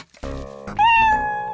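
A cat gives a single drawn-out meow that rises into a loud, clear, tonal cry and holds for about a second, close and alone.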